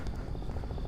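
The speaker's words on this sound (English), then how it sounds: "I hear a helicopter overhead somewhere." A helicopter passes over Manhattan's Central Park near the Naumburg Band Shell, a distant low rotor thrum under city ambience, brief and muffled.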